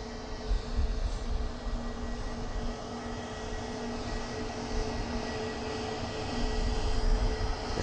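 An Airbus A320neo jet departing Southend Airport, a broad steady engine roar heard from a distance that swells slightly toward the end, with no voices.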